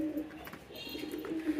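Pigeons coo softly and steadily just after being released on a pigeon farm, a low repeated murmuring with faint background noise and no voices.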